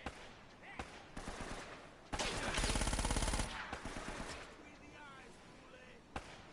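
A sustained burst of rapid automatic gunfire in the Uncharted video game rattles loudly for about a second, framed by scattered single shots and impacts, with voices talking over the action.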